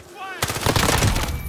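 Rapid automatic gunfire in Call of Duty Warzone bursts in loud and close after a brief quiet lead-in, a dense stream of shots continuing to the end.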